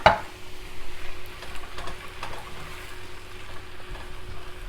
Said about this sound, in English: I'll just go ahead and add in some coconut milk.